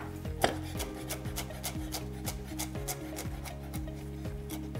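A knife roughly chops fresh cilantro for chimichurri sauce on a board, with a quick, steady run of about a dozen close, light chops that are fairly quiet and come without speech.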